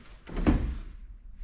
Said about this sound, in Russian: Это входная дверь.